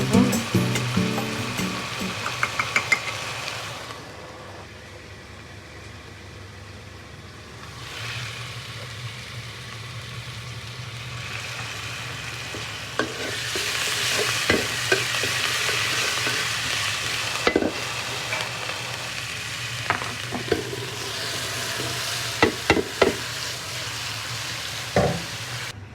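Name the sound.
onion with turmeric and chili frying in a pan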